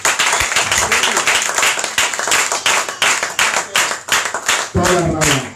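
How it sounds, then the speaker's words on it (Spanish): A congregation at a Torah teaching service claps together in a quick, even rhythm for several seconds, with a voice rising over the clapping near the end. "Denle un aplauso a la batalla."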